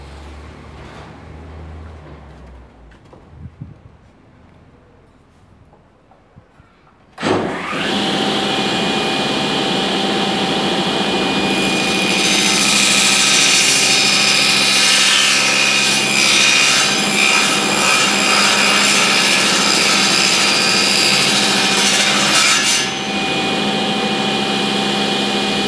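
A saw cuts through a wooden piece for a vertical flower shelf, starting abruptly after a quiet stretch with handling noises and then running as a loud, steady, close grinding rasp for about fifteen seconds before easing slightly.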